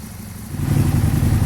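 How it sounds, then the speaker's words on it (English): An Aprilia Tuono motorcycle engine ticks over at idle while warming up, a steady close rumble that swells slightly partway through. "So I'm just letting the engine get hot to move all its oil around so I can set the level"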